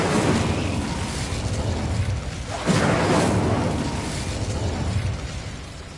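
A fiery Incendio spell blast from the Hogwarts Legacy game, set during a mine fight, heard as a dense roaring whoosh that surges sharply near the middle and stays loud throughout with no voices.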